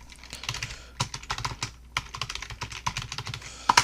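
Close, quick keystrokes clatter on a computer keyboard as a git push command goes in to deploy a Flask app to Heroku, an uneven run of taps with a few louder clicks at the end.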